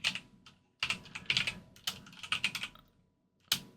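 Fingers type a web search on a computer keyboard, close crisp key clicks in quick irregular bursts separated by short pauses, with no voice.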